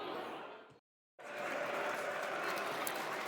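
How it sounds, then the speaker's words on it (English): Crowd applause at Millwall's home ground for player Tristan Kramer during a match against Hull City: dense, steady clapping that cuts out briefly to silence, then resumes at full strength. "Applause for Tristan Kramer"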